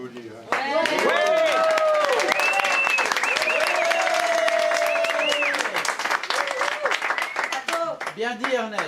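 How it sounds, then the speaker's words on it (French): A church congregation bursts into sustained, loud applause, with voices and cheering mixed in, before the clapping thins out toward the end. "On va les applaudir."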